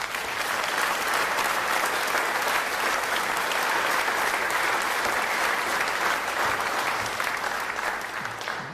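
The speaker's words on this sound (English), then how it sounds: "Let's give Craig a round of applause" Steady, sustained applause from a large crowd, loud and even throughout, with no talking.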